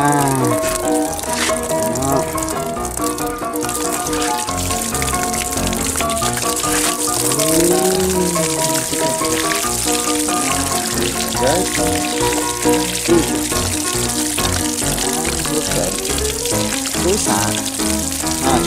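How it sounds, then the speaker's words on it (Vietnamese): Water runs from a tap to wash out a concrete mixer truck, a steady loud gush and splatter that fills the whole stretch with a busy hiss, with some faint background tones. "Vặn vòi nước."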